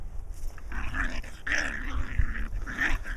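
Puppies playing rough let out close, continuous growls and snarls in several gruff bursts over a few seconds, with no talking.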